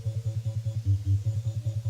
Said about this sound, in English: You guys will recognize that as the bass line from every Nintendo title.